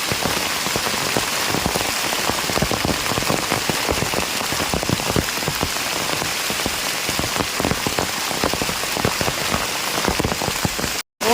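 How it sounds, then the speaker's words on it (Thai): Heavy rain pours down steadily and densely in a forest in Mae On, Chiang Mai, Thailand, a constant close hiss of drops drumming on a surface throughout, cutting off abruptly at the very end. "ฝนตกหนักขนาดข้าเนาะ"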